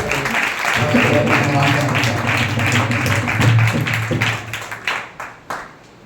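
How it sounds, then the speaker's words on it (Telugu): Church congregation clapping together in welcome, a steady wash of applause with some sustained tones underneath, thinning into a few scattered claps as it dies away. "ప్రేమతో ఆహ్వానిస్తూ అందరూ చప్పట్లు కొడుతూ"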